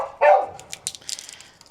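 Dogs on a rural property set off barking at the neighbours: one sharp loud bark up close, followed by a scatter of fainter, yappy barks and yips farther off, with no talking.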